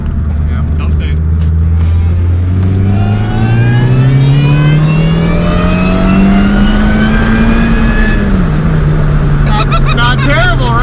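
A car engine revs hard and climbs in pitch as the vehicle pulls away on a Gambler 500 off-road rally trip, a loud, close, steady drone that dips near the end, with people talking over it.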